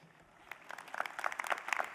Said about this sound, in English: Including shamelessly applauding for itself.